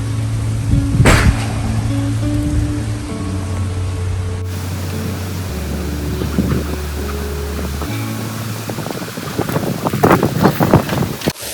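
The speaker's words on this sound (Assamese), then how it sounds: "এয়া দেখা পাইছে নহয় কেনেকুৱা বতাহ।" Strong wind blows hard outdoors by an Assamese home kitchen, producing a steady, loud rushing roar with microphone buffeting and gusty bursts, and a low hum underneath.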